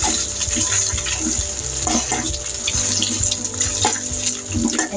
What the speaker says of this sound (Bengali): 10 মিনিট হয়ে গেলে এটা পানি থেকে ঝরিয়ে নিতে হবে